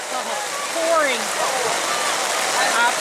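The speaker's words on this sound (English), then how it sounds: "Absolutely pouring." Heavy pouring rain at an outdoor track meet during a 3000 m race, a steady loud hiss filling the scene while a voice talks over it.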